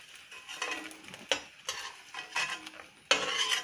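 Edible gum (gond) roasting in a pan with a spoon stirring, scraping and clinking against the metal over a soft sizzle, close and moderately quiet, in irregular strokes.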